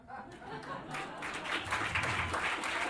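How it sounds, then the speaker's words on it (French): An audience applauds a Rubik's Cube magic trick of instant reconstruction on stage, a soft, fairly distant patter of clapping that builds slightly over three seconds. "Et ils sont sympas d'applaudir."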